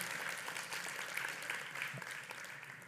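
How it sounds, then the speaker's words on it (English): An audience at a Devcon SEA conference stage applauds a speaker, a steady, even wash of many hands clapping, heard from some distance and fairly quiet. "Let's give him a hand of applause."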